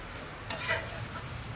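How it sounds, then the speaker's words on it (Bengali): Onions being stirred and fried in a pan for a prawn curry make a brief hissing sizzle, framed by two sharp scraping clicks of the spoon. "পেঁয়াজটাকে আমি আবার এইভাবে আমি নেড়ে দিয়েছি যাতে পেঁয়াজটা ভালো করে ভাজা হয়ে যায়"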